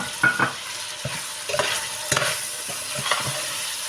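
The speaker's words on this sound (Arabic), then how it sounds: "نخلوهم يتقلوا شوية ويتشربوا الفاح" Chunks of meat with tomato, turmeric, hot pepper and salt stirred and sizzling in a pot for a Tunisian vegetable stew, with soft scraping strokes of a spoon at intervals over a steady fry.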